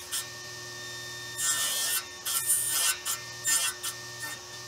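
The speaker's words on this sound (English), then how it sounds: "I need to cut notches in the end of it." A saw cuts notches into the end of a solid maple piece: several short, rasping strokes in uneven bursts over a steady low machine hum, fairly quiet and close.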